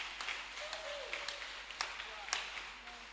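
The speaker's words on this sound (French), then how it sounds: "Si tu crois, acclame très fort le Seigneur" A church congregation applauding and cheering in acclamation, scattered claps and shouts beneath a preacher's voice, moderately loud and reverberant over a few seconds.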